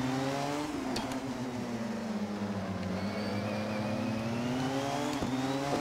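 A Porsche 919 LMP1 race car engine in Assetto Corsa holds a loud, steady high whine with rising and falling pitch and sharp gear-change blips, continuous throughout.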